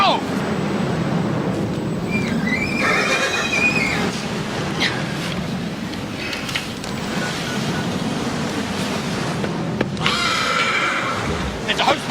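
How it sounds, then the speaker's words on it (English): A panicked horse whinnies loudly near a fire during a dramatic soap-opera farm scene, several shrill neighs rising over frantic shouting voices and background commotion. "Car, take the horse right away!"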